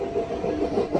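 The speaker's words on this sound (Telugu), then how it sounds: "షాలిమార్ నుంచి వాస్కోడిగామా వెళ్ళే అమరావతి ఎక్స్ప్రెస్" The Amaravati Express, running from Shalimar to Vasco da Gama, passes close by with a continuous rumbling roll of wheels on rails, loud and unbroken for a second.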